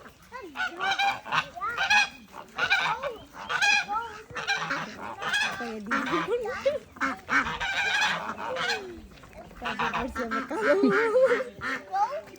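Ducks and chickens at a poultry farm honk, quack and cluck continuously in a noisy flock, dense overlapping calls close by, with a voice talking now and then.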